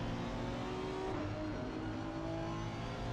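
A V6 GT3 race car engine revs hard at the Paul Ricard circuit in a racing game, a sustained, loud whine that shifts pitch as it changes gear partway through.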